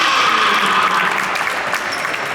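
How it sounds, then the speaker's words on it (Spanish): Steady, dense applause fills a sports hall as a women's team player is introduced before a national-league round-of-sixteen first-leg match, close and loud, slightly easing toward the end. "Fuerte aplauso para el 6, Donadal Coña."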